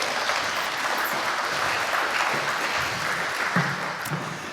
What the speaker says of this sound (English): please welcome with a very warm round of applause your own Mail Server 2025 edition with Simon